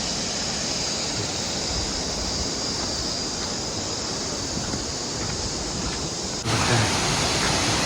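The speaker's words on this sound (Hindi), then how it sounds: "पहला झरना है, बहुत सुंदर नज़ारा है इनका" Close waterfall on the Madmaheshwar trail in the Uttarakhand mountains, a steady, loud broadband rush of falling water that holds constant and swells a little louder near the end.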